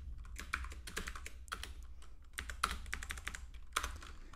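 Steady typing on a computer keyboard while writing web API code, with close, crisp keystrokes in uneven bursts over a low background hum and no speech.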